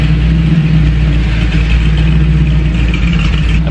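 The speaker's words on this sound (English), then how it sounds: "I'm just gonna let it idle right now" A 1969 Chevrolet C10 fitted with Holley Sniper EFI idles steadily up close, a loud, even low rumble holding without revs for nearly four seconds.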